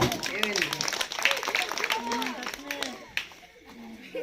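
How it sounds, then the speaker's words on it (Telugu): A patter of clapping hands mixed with a crowd's chatter, fairly even and moderately loud, easing off toward the end. "చప్పట్లు కొట్టి వారికి మనం"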